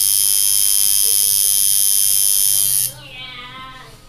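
A tattoo machine needle makes a loud, steady high-pitched electric buzz for about three seconds and then cuts off, leaving faint lower residual noise.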